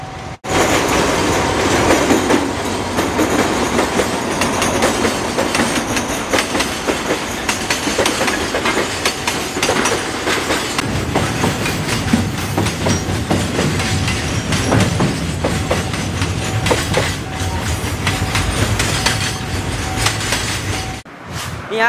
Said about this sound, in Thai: อ้าวรถไฟมาพอดีครับท่านผู้ชม